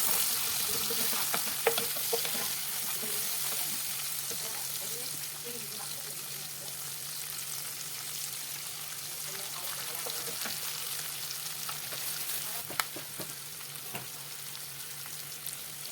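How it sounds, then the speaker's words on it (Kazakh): Chopped onion and carrot fry in hot oil in a pan, producing a steady, close crackling sizzle with occasional sharper pops that runs without a break. "Оларды қызып тұрған майда қуырып аламыз"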